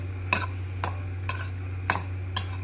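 A spoon stirs buttermilk-soaked chillies frying in oil in a pan: five brief scraping strokes at a steady rhythm over a constant low hum and faint sizzle, close up, with no talk.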